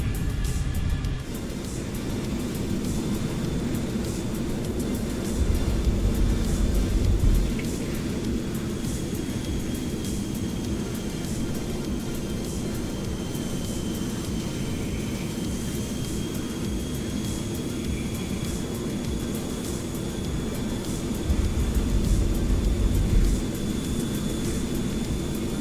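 An F-14 Tomcat jet in Microsoft Flight Simulator makes a flyby, a continuous loud engine roar with a thin whine on top that swells briefly twice, no talking.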